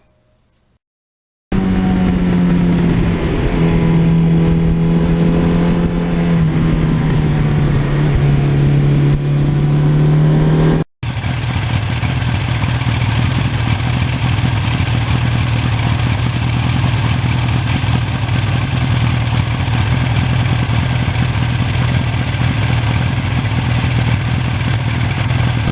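A 1982 Suzuki GS1100E motorcycle engine runs loud and close, first a steady drone with shifting pitch, then after a brief cut a continuous rougher roar of riding at speed.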